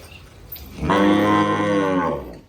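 A Kankrej cow lets out one loud, drawn-out moo from close by. It rises after a short quiet start, holds steady for over a second and fades at the end, with no talking over it.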